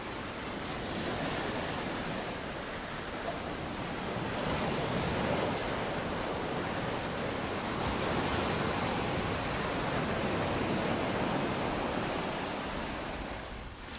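Ocean waves wash in steadily at Maxwell Beach, Barbados, a broad continuous roar of surf with gentle swells in loudness, mixed with some wind buffeting the microphone.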